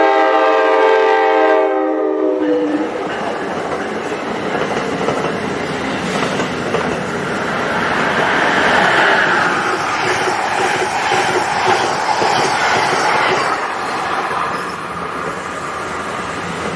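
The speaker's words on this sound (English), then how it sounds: "Northeast Regional Train number 161 passed through at 2:58 p.m. going from Boston, Massachusetts to Washington, D.C. with Amtrak ACS 64 number" Amtrak Northeast Regional train 161, led by ACS-64 locomotive 633, rushes through Princeton Junction. A loud horn blast opens, then a long roaring, rattling wash of passing cars and wheel clatter that slowly fades.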